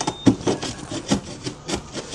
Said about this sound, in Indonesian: kita gosok bagi dia rata